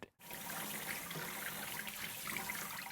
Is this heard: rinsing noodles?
yes